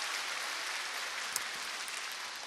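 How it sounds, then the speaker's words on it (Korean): Steady applause from a church group at a training session, a continuous hiss of many hands clapping at moderate distance with one sharper clap standing out, no voices over it. "박수 한번 부탁드리겠습니다"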